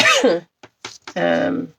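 Several short, harsh coughs in quick succession, close by, with a brief voiced sound before them.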